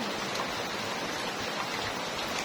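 Heavy rainwater pouring off a house roof, a dense, steady, loud roar of falling water with no breaks.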